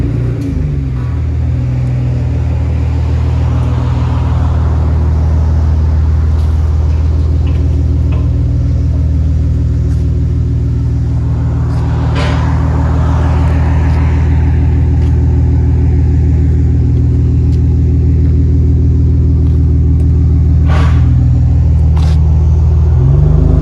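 Nissan Maxima 3.5L V6 with a Motordyne cat-back exhaust or muffler delete, a loud, close, deep droning exhaust idling and rumbling steadily, with a few sharp clicks and slight rises in revs.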